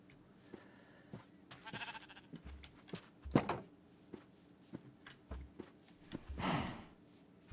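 Sheep in the Minecraft video game bleating several times in a row, close and moderately loud, with soft clicks and game sounds between the calls.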